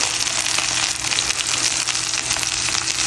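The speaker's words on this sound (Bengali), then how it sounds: "বেশ সুন্দর করে ফ্রাই হবে মশলাগুলো" Spices frying in a pan, a dense, continuous loud sizzle with faint crackles throughout, close up and without speech.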